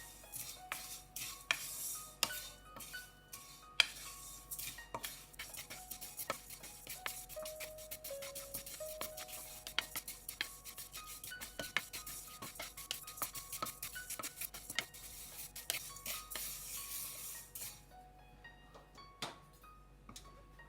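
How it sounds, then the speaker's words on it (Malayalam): Vermicelli (semiya) roasting in a pan is stirred continuously, giving faint scattered scrapes, clinks and taps of a utensil against the pan in a quiet kitchen. "ഈ സേമിയ നന്നായിട്ടൊന്ന് റോസ്റ്റ് ചെയ്തെടുക്കാം."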